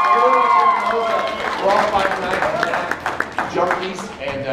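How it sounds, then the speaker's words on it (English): Audience applause fills a Salt Lake Comic Con 2016 Five Nights at Freddy's panel room, a sustained wash of clapping and crowd noise with voices mixed in throughout. "I just want to give yourself a round of applause"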